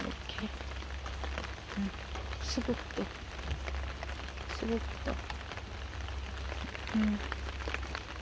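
Steady rain falls on a geranium garden, a constant soft wash of drops continuing throughout, with a few scattered louder drips and a person speaking quietly over it.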